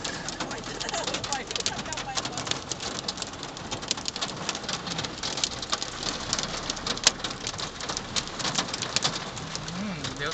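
Hail and rain fall hard during a storm in Chiang Rai, a dense, continuous patter of sharp ticks and hits on surfaces, with bird calls and voices faintly underneath.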